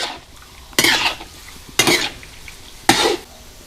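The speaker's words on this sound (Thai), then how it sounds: "ผัดคลุกเขาให้เข้ากันครับ" Three sharp bursts of scraping and clattering as eel is stir-fried in a pan, about a second apart, tossed and stirred with a utensil; close and fairly loud.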